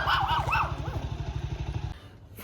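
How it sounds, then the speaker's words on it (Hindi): A dog barks in a rapid, repeated burst of yelping calls at a mountain home in Uttarakhand, close and fairly loud over a steady low engine rumble, the barking tapering off toward the end. "और वहाँ एमी भी भौंक रही है।"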